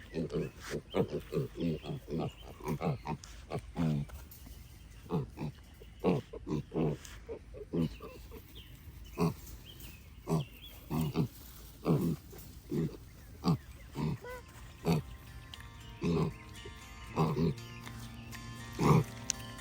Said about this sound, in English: Can you feed that to the pigs?